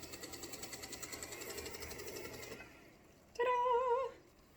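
A sewing machine with a binding attachment pulls leather trim through, running in a steady, close, rhythmic mechanical whir that stops abruptly, followed by a brief louder scraping, squealing burst before fading.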